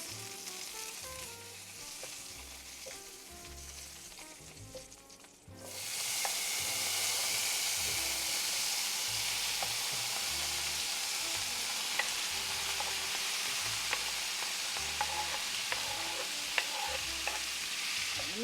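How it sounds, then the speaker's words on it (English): Onions and peppers sauté in a hot pan. The quiet start jumps after a few seconds into a loud, steady, crackling sizzle that holds to the end, with a few small pops and no talk. "Let me just saute the onions and the peppers a little bit"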